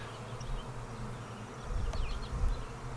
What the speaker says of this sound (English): I'll bet we're looking at a good 5 pounds of bees right there.